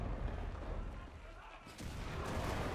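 Explosions and gunfire in the World War II shooter game Enlisted rumble and crack as continuous dense battle noise, with a brief dip before the booming resumes, fairly loud throughout.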